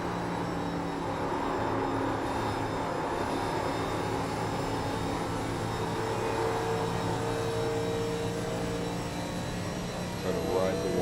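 Simulated race car in a racing video game powering out of turn 4 at Atlanta onto the front stretch, a steady loud engine drone with harmonic whine holding throughout, talk running underneath.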